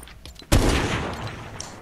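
A single sharp, loud sniper rifle shot in the Fortnite video game, with a sudden onset followed by a long, slowly fading boom and rumble, heard alone without talk.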